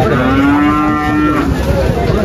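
A Holstein Friesian bull lets out a long, loud, low moo that holds steady, close by, over a constant background hum.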